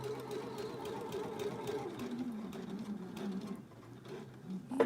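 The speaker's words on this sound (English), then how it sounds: "I'm going to sew this seam." A home sewing machine stitches a quilt seam through yellow and rust fabric, its steady motor hum and needle clatter running continuously at close range before slowing toward the end.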